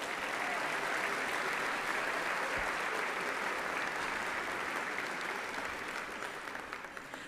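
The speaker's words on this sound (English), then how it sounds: "Let's give them a round of applause." Steady, dense applause from a large audience at a school district State of the District evening, even and loud throughout before tapering slightly at the end.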